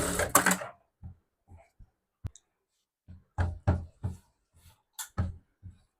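A sewing machine stitches a small girl's frock in short, separate bursts of clatter, with quiet gaps and single knocks in between.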